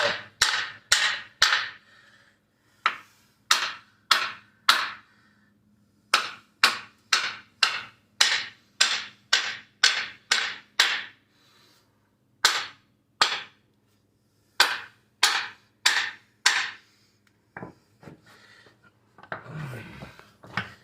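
Hammer blows knock a bushing out of an aluminum BMW front lower control arm: about two dozen sharp, loud metallic strikes in uneven bursts with short pauses, no voices.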